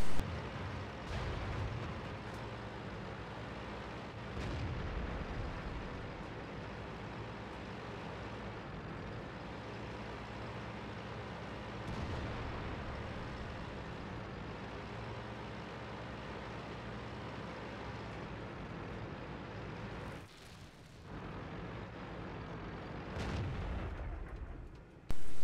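Tank cannon shots in an online tank battle game, with a few heavy booming blasts spread across a steady engine-like rumble, one sharp report near the middle and another near the end.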